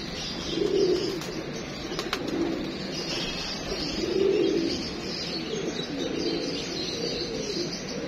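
Soft, low pigeon coos repeat in slow rounded phrases against a steady outdoor background hiss, with a few faint chirps in between.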